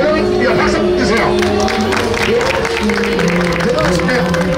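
Street crowd in Hongdae, Seoul, clapping and cheering for a street fortune teller, a dense continuous wash of applause mixed with loud chatter and voices throughout.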